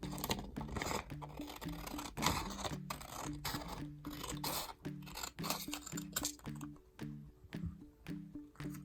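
Scissors snip through colored origami paper in a steady series of short, crisp cuts over about nine seconds, with a soft repeating tonal background underneath.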